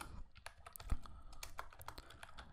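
Someone types code on a computer keyboard with quick, irregular clicking keystrokes. The sound is close and fairly quiet, with no talking.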